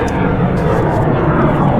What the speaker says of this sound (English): Another airplane in the sky.